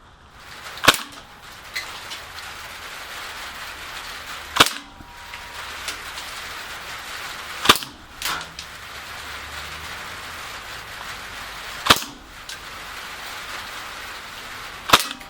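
A KWC Mini UZI BB gun fires single sharp cracks outdoors, six or so shots spaced a few seconds apart, loud against a soft background hiss, each with a brief tail.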